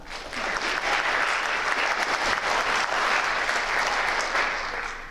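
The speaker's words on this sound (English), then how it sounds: "So please give those guys a round of applause." Audience applause fills a high school National Honor Society induction ceremony, a dense, steady wash of many hands clapping at close range that holds for about five seconds and eases slightly at the end.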